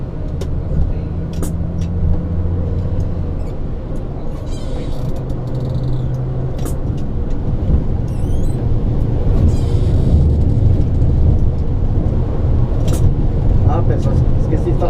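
A Busscar DD 1800 double-decker bus drives along, its engine droning low and steady throughout with road rumble and occasional rattles and squeaks from the cabin.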